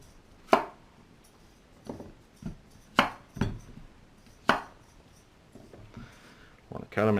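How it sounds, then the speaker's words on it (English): Knife chopping zucchini on a cutting board, the ends trimmed off first: a few sharp, separate blade strikes against the wood, spaced irregularly, close up and moderately loud, with a clatter at the end. "so now we're ready to cut up our zucchini"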